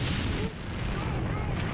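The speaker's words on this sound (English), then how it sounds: "Sir, we have an explosion in Sector B." An explosion in the video game Danger Girl makes a dense, continuous rumbling roar with crackling bursts, loud and sustained throughout.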